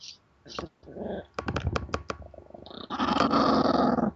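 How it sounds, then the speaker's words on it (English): A Shih Tzu dog growls up close, low rumbling bursts broken by short snorts and sniffs, ending in a longer sustained growl, with no voices. "That was my dog."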